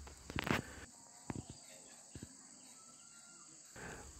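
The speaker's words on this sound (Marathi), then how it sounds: "रातकिड्यांचा आवाज, बाकी काही नाही." Crickets chirp faintly in a continuous high drone on an evening in a village, with a few soft knocks and bumps nearby.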